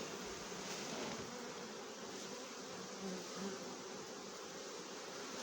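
A dense swarm of honeybees hums continuously around an open beehive during honey harvesting, a steady, fairly faint drone with no one speaking.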